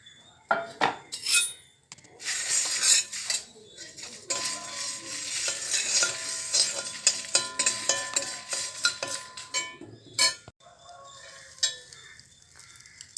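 Garlic cloves and curry leaves dry roasting in a pan with salt for spicy paruppu podi, with a utensil scraping and clinking against the metal in bursts over a soft continuous sizzle; no talking.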